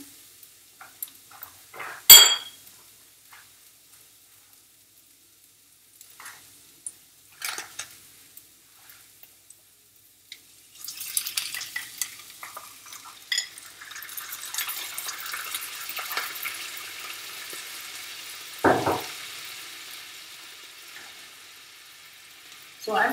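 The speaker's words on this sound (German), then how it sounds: "Und dann gebe ich einfach mal den Spinat dazu." Spinach is added to a pan of softening onions and starts sautéing, a soft sizzling hiss that rises about halfway through after a loud clatter and scattered utensil knocks, with quiet gaps early on.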